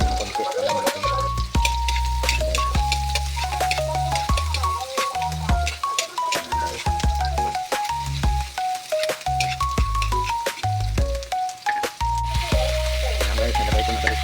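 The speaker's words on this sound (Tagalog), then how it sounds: "Igigisa ko lang sa sibuyas at saka luya." Onion and ginger sizzle steadily in a hot pan as a sauté base for Filipino adobo, with constant frying crackle and repeated clinks and scrapes of a utensil against the pan throughout.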